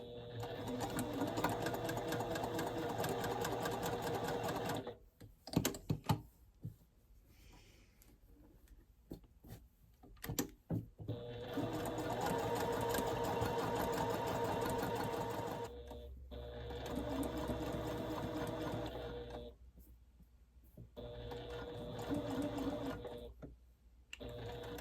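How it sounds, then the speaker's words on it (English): A sewing machine runs a basting stitch on batik cotton jersey knit in several close, steady whirring bursts separated by pauses with fabric handling and clicks. "And then we're going to run a second basting stitch next to that one."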